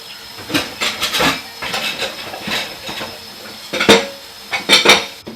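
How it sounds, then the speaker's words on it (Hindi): Dishes, pots and cutlery clattering and clinking in a kitchen sink during washing, with irregular bursts of metallic knocks and scraping over a hiss of running water, close and fairly loud. "बर्तनों की धोने की आवाजें आ रही थीं।"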